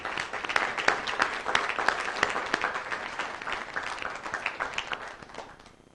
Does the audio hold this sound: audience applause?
yes